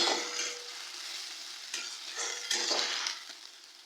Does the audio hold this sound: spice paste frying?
yes